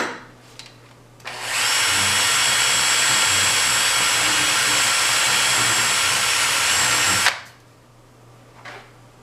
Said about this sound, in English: the way that I'm cleaning that up is with one of these crepe sticks for cleaning your sanding belts